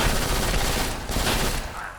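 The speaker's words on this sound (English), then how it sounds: "I think it shoots 9mm bullets" Sustained rapid gunfire from a 9mm weapon in the video game BLACK, loud, dense and continuous, with a brief voice faintly underneath.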